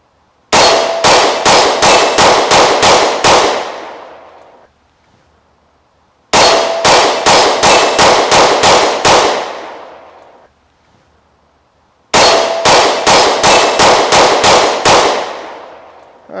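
Rapid strings of 10mm shots from a V-ported Cosaint Arms COS21 pistol ring off a steel target, three volleys of about eight loud cracks and clangs each, with ringing decay and quiet gaps between.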